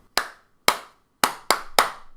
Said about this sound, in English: the teacher claps a rhythm